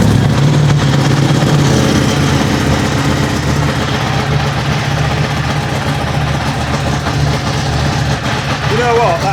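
A stock motorcycle engine idles in a garage with a steady, deep low rumble throughout, loud and close, while people talk over it.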